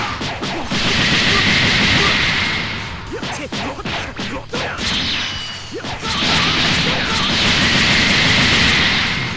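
Rapid punches, whooshes and smashing impacts from a Dragon Ball Xenoverse fight against Piccolo, loud and continuous with bursts of crashing hits over game music, no talk.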